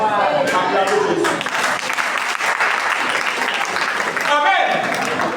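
A church congregation applauds loudly, with dense, sustained clapping that runs the whole way through, mixed with raised voices and cheers from the crowd.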